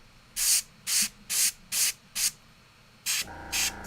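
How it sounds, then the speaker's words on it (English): Airbrush spraying ink onto a Warhammer 40k Kill Team miniature in short, evenly spaced hissing bursts, about seven in a row, close and loud with nobody talking. "Man, inks run through the airbrush"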